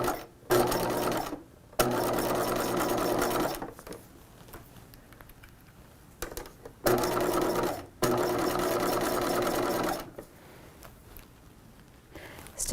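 A sewing machine stitches a dress seam at 3/8 inch in steady bursts, running loudly for a few seconds at a time with quiet pauses between runs.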